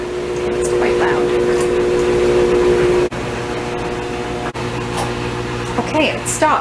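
A newly installed clothes dryer running loudly, a dense constant mechanical hum and rumble with a steady tone that briefly dips twice, close by and without talking over it.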